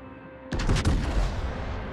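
Warship main battery guns fire a heavy salvo in a naval combat game, one sharp booming blast followed by rolling, rumbling reverberation that decays slowly; close and loud with no talking.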